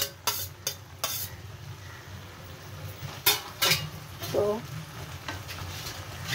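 Onions frying lightly with small kachki fish in a pan give a steady low sizzle, broken by sharp clinks and scrapes of a spatula stirring, with a brief word spoken.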